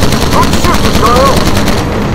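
Rapid bursts of machine gun fire in the World War II shooter Call of Duty: United Offensive aboard a bomber, loud and close, rattling continuously with engine drone beneath and shouted voices mixed in.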